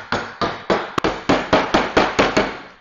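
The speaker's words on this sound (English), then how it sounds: "The back end can serve as a hammer." Eight sharp metallic hammer strikes from the back end of a 15-in-1 painter's tool in a steady rhythm, each blow ringing briefly before the next, close and loud.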